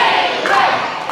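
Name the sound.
wrestling crowd cheering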